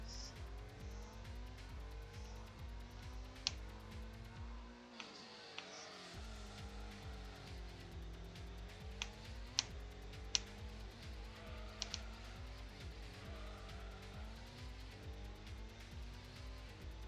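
Race car engine in Gran Turismo, a Nissan R32 among the cars on track, revving and shifting continuously with a brief drop in the middle and short tire squeals scattered through, loud and close with no talk.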